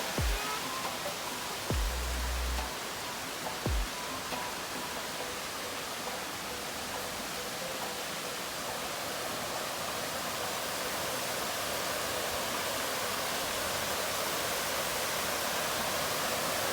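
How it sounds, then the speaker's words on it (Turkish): A waterfall near Erfelek, Sinop, gives a constant, full roar of rushing water, with a few faint clicks at the start, and no voices over it. "Şelalenin üstüne mi geldin Turo?"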